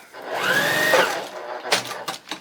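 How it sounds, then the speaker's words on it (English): Sewing machine stitching a short tack inside the seam allowance of a paper-pieced quilt block, a steady whirring run for about a second followed by a few brief clicks and bumps, close and fairly loud with no talking. "just tack it inside the seam allowance, because then you never have to take it out"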